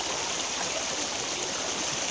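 Steady, close rushing and bubbling of water flowing from a natural carbonated soda spring in Indonesia, a continuous dense wash of noise with no voices.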